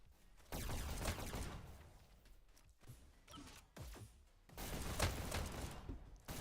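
Gunfire in a zombie tournament video game: rapid bursts of shots in several clusters, fairly faint and mixed with game effects.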